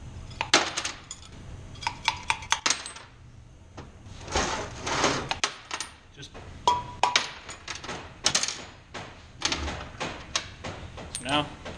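Old valve seats being knocked out of a Ford FE cast iron cylinder head after a weld bead was run around them: a series of sharp metallic hammer knocks and clanks in irregular bursts, close and loud, with no talking.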